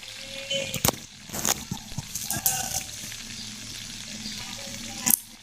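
Tomato, green chilli and spices sauté in oil for a vegetarian paneer curry, a close sizzle with a few sharp utensil knocks and stirring scrapes, no talking heard.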